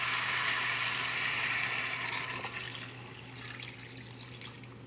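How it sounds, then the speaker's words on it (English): Four cups of water pour into a hot pot of sizzling butternut squash for soup. A steady rushing stream is loud at first, then softens and settles. "I'm gonna pour in my 4 cups of water."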